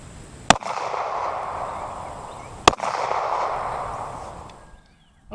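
Two sharp 9mm handgun shots, jacketed hollow points fired at a one-inch polyurea slab outdoors, spaced about two seconds apart, each followed by a long rumbling echo that slowly fades.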